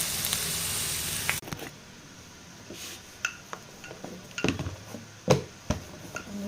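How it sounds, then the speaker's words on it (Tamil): Onion, potato and tomato sautéing in a pan with salt: a soft sizzle that stops, then scattered clinks and scrapes of a utensil against the pan at irregular intervals. "நடுவில் தக்காளி வச்சு இந்த உப்பு போட்டுட்டா தக்காளியும் வதங்கி"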